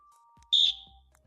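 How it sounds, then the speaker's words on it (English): One sharp, piercing beep from a handheld personal safety alarm sounds briefly at close range, then cuts off, leaving faint low rumbling behind. "Hold the button as long as you want it to beep."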